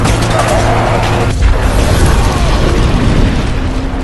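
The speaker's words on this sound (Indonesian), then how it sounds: "sebuah ledakan pun terjadi saat mobil van putih memaksa untuk memasuki gerbang" Movie van bomb explodes at an embassy's front gate in a loud, dense rumbling roar that carries through the whole stretch with debris-like crackle and no clear pauses.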